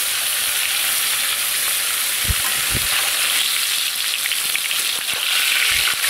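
Oil heating in a wok before frying live koi fish gives a steady broadband sizzle throughout, with a few low knocks and clatters scattered through it and no voices.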